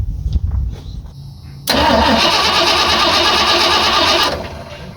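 A 1986 Ford F250 pickup with a manual transmission is cranked over: a few faint clicks and rumbles, then the starter turns the engine in a loud, steady whirring churn for a few seconds before cutting off.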